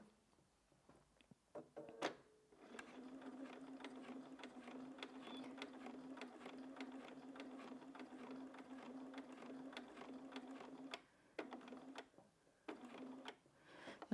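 A sewing machine running a BSR stitch regulator does free-motion quilting along a seam, humming in a steady rapid stitching rhythm for most of the stretch, with brief clicks and a short pause near the end, fairly quiet and alone.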